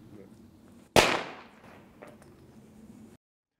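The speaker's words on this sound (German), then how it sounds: "in einem Experiment mit einem handelsüblichen, in Deutschland frei verkäuflichen Böller" A commercial firecracker bursts on a pig's trotter with one sharp, loud bang that rings out and fades, after a stretch of quiet background and before a brief faint noise.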